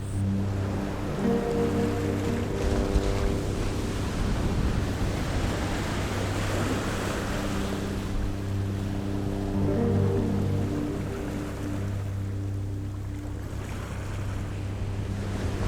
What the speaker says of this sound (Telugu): అద్భుతమైన గగనచుక్కి జలపాతం.